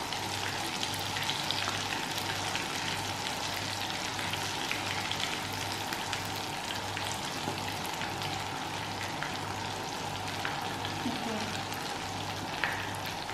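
Malai kofta fry in oil with a steady, dense sizzling hiss that holds at moderate volume throughout, with no voices.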